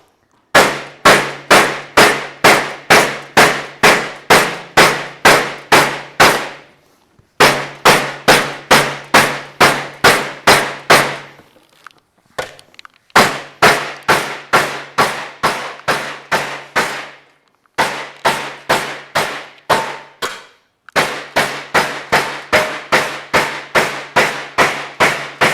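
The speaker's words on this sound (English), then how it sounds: "what we're doing with the sandbag here is the sandbag has some give to it, and I'm using these nylon hammers" Nylon hammers beat a metal fender panel on a sandbag while fabricating a café racer fender, with loud, rapid, evenly spaced blows in long runs broken by short pauses.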